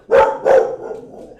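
Two loud, close barks from an upset dog in quick succession, followed by a short trailing whine or tail of sound, with no talking.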